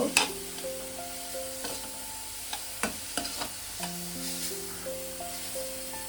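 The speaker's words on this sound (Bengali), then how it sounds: "গাজরটা একটু ভালো করে তেলে নেড়ে নেব। হালকা একটু ভেজে নিয়ে তারপরে আমি নারকেলটা দিয়ে দেব।" Grated carrot being stirred and lightly fried in oil for carrot patisapta, with soft intermittent spatula taps and scrapes over a faint sizzle, under steady sustained musical tones.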